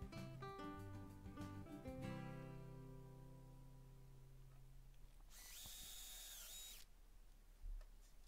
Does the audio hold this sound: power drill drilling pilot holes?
yes